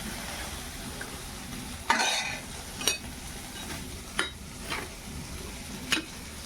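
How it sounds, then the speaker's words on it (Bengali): Dal poured into a pan of spices tempered in dal water, with a steady low sizzle and several sharp scraping stirs of a spoon against the pan, spaced a second or so apart, close and alone. "এবার ডালটা ঢেলে দেবো।"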